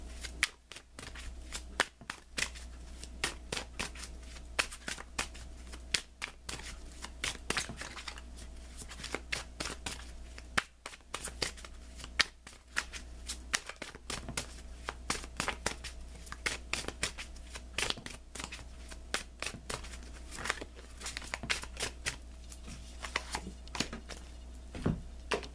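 Tarot cards being shuffled by hand in a quiet room, a long run of soft rapid riffling and flicking bursts, close and faint.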